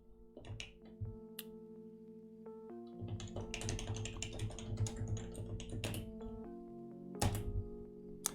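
Rapid computer keyboard typing in irregular bursts, with sharper key thunks and a steady electronic hum underneath; close and moderately loud, no speech.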